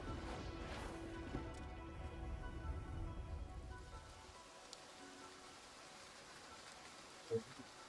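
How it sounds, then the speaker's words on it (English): Rain effect in the video game Ichor of Two Dragons, a faint steady hiss of falling rain with a low rumble that fades partway through and a single sharp tick near the end. "The rain is so good."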